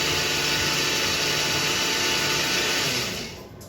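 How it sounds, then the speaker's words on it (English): A kitchen blender whirring steadily as it blends a protein shake with four ice cubes, a loud continuous motor roar that cuts off near the end and winds down. "After some time in the blender"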